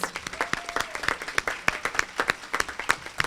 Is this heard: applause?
yes